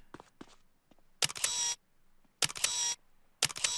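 Camera shutter sounds in the video game GTA Vice City: three bright, loud shutter bursts spaced about a second apart, with faint soft clicks before the first.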